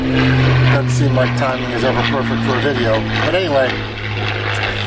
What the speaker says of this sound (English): Sorry about the plane going overhead.